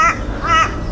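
A crow gives two loud, close, harsh caws, evenly spaced about half a second apart, with nothing else over them.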